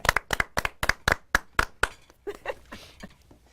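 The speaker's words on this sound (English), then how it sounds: "Let's give him a clap." A Toastmasters club audience gives a rhythmic clap: several loud, evenly spaced hand claps in a row, then scattered softer claps trailing off, close and crisp in a quiet room.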